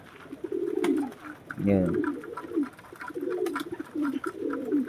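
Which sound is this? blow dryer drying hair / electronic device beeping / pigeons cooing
pigeons cooing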